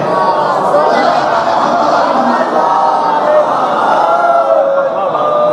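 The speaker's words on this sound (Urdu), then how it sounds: "یہ مجمع یا مہدی کے نعرے لگاتا ہے" A large crowd at a Shia majlis gathering raises the chant of Ya Mahdi slogans, a loud, dense and continuous mass of voices that carries steadily throughout.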